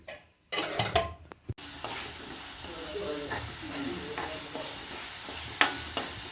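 Banana stem curry masala with crushed chili being fried and stirred in a pan, giving a steady sizzle broken by scraping and clinks of a spoon against the pot, with a brief voice early on.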